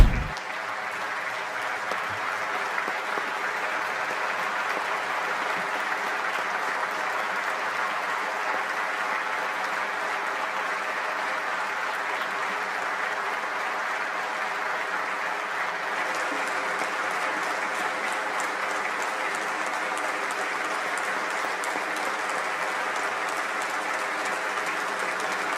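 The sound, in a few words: applause and standing ovation in Turkish parliament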